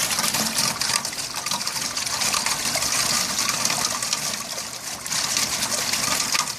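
Rainwater pours steadily into a 5-gallon bucket, a continuous close splashing gush with no pause or talk.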